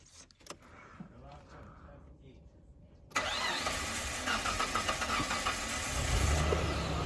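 A car engine turns over and starts for the first time after being moved out of storage. Quiet rustling and voices come before the sudden loud catch, then the engine runs on at a rough, steady idle.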